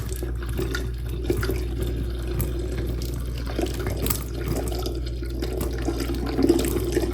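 Hot tap water runs over the hair of a 1960 vintage Ponytail Barbie doll held under the flow, a steady, moderately loud splashing stream with no talking.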